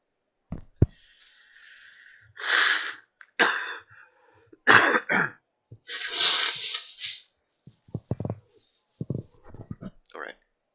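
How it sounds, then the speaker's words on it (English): Several loud bursts of nose blowing close up, separated by pauses, with sniffs and small handling noises between them. "I gotta blow my nose, excuse me"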